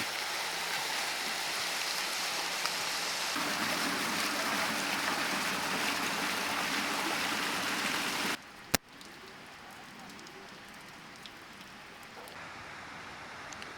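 A park water feature in Bucharest splashing and hissing steadily like heavy rain, then dropping abruptly to a quieter, thinner trickle after a sharp knock.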